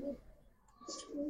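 Gola pigeons coo in low, soft bursts close by, with short pauses between calls and brief chirps.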